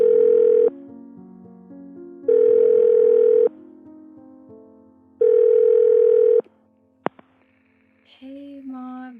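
A telephone ringback tone sounds while a call is placed, three long, loud, evenly spaced pulses with gaps between them, followed by clicks as the line picks up.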